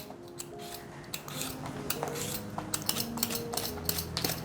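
A knife slices a peeled potato into thick slices on a cutting board, giving a steady run of crisp, close chops and taps over light background noise.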